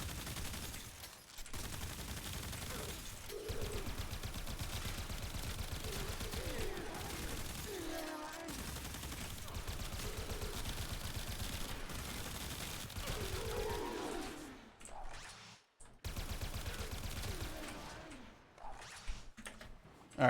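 Video game gunfire from primary and secondary weapons: rapid continuous automatic bursts, loud and dense, with brief pauses for weapon swaps and someone talking over the shooting.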